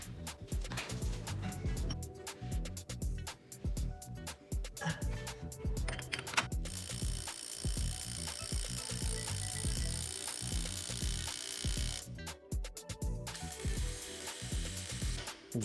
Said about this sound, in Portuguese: Talvez com a minha chave de impacto eu consiga remover essa porca.